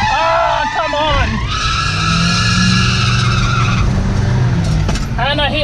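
A Ford Courier drifts in a racing game with no handbrake, its tires squealing in long, loud skids over a droning engine, with a sharp screech returning near the end.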